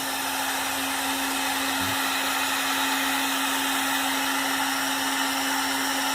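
A heat gun blows with a steady, loud whooshing roar and a constant hum, held close while it shrinks heat-shrink tubing over soldered wiring during a Ford truck speedometer repair; no one speaks.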